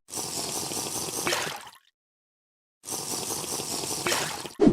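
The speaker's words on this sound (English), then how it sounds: "drinking from a glass bottle now emits the appropriate sound" Glugging liquid sounds as a glass bottle is drunk from in Minecraft Bedrock Edition, two bursts separated by a short silence, ending with a brief thump.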